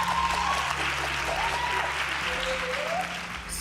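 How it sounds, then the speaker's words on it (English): Audience applause at a TV talent show audition in East London, a steady wash of clapping throughout, moderately loud, with a low background hum and faint tonal sounds drifting over it. "Come on, guys, give a round of applause."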